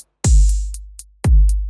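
A kick drum with a big sustained low boom added beneath it hits twice, about a second apart. Each hit is loud and punchy, with a ringing bass tail that decays between the strikes and a bright click on top.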